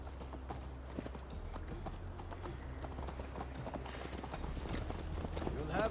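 Horse hooves clip-clopping at a steady gallop in the Assassin's Creed Valhalla video game, a continuous rapid rhythm at moderate volume that swells slightly toward the end, with faint speech in the background.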